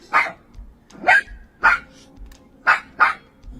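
A dog barks about five times in sharp, separate bursts, close and loud, with brief quiet gaps between them.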